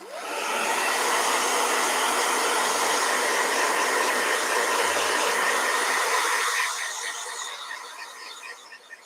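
A blow dryer switches on and blows in a loud, steady rushing whoosh up close, then fades and tapers off near the end as it is moved away or switched down.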